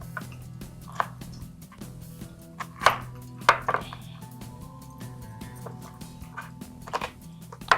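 A small onion is chopped into chunks for pakoras on a board, with irregular sharp knife knocks standing out over a low background hum and no speech.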